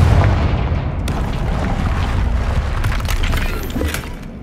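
A rumbling blast from the Confringo fire spell in Hogwarts Legacy gives a sustained low boom with crackling, shattering debris on top. It stays loud throughout and fades slightly at the end.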